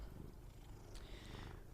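A domestic cat purrs softly and steadily close by, a low continuous rumble with faint room noise and no talking.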